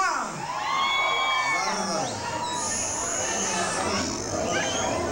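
Festival crowd at a town fair in San Baltazar Loxicha shouting, whooping and cheering in sustained loud waves, with children's shouts and chatter mixed in close by.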